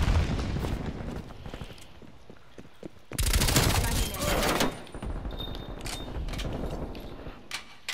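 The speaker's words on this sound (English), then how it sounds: "Throwing frag." A frag grenade detonates in a multiplayer shooter match, a sudden loud broadband blast that rumbles for about a second and a half amid ongoing gunfire and game noise, while players chatter over the top.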